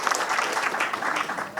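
Audience at a formal association ceremony applauds the minister's representative, a brief burst of lively, fairly close clapping that continues evenly.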